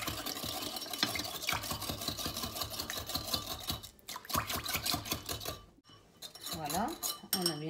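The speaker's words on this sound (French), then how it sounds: "On mélange." Milk, orange blossom water and oil are briskly stirred together in a bowl for kalb el louz, giving fast, steady, close-up scraping strokes in a continuous rhythm, briefly pausing twice before resuming, with a faint voice near the end.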